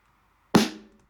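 A single snare drum hit recorded on an iPhone with no compression, one sharp close crack that decays quickly, heard alone.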